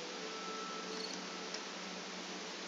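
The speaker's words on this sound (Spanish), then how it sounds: "Ya cantan los grillos." Steady synthetic cricket chirring from the My Time at Portia game soundscape, a dense continuous buzz that fills the background evenly throughout, with no voices over it.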